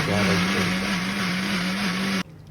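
Electric mixer grinder blending coconut with chilli powder, coriander powder, cumin and water, a loud steady whirring motor hum that cuts off abruptly near the end.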